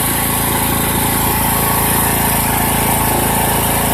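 Engine of a Poulan Pro PP175G42 lawn tractor running up close, a loud, steady, buzzing mechanical drone with no letup and no talk.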